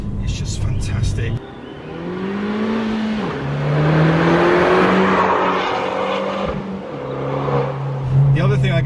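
An Abarth 595 Esseesse with a 1.4 turbo engine and active-valve exhaust in sport mode revs and accelerates through rising and falling gears, close and loud, with someone talking over it at the start.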